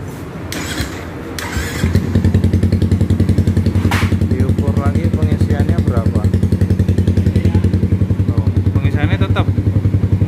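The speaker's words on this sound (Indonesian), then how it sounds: "Motor dihidupin lagi." A motorcycle engine cranks, catches and settles into a loud, steady, rapid putter at idle after a burnt coil and a new rectifier, with a voice speaking briefly over it.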